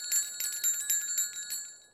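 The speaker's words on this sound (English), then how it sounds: "Bells! How splendid." Bells jingle on an ice cream cart in a rapid, bright series of strikes lasting throughout, fading slightly at the end, with no talking.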